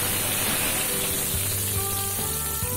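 A bay leaf dropped into hot oil for a Bengali soybean and potato curry, giving a steady close crackling sizzle that fills the whole short moment alone.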